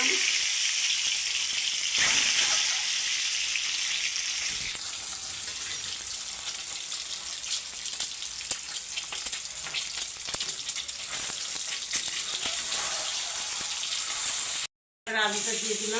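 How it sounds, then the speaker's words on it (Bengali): An egg fries in oil tempered with cumin in a kadai, giving a constant, even sizzle throughout with faint utensil sounds and one short break near the end. "ডিমটা ভাজা করলাম।"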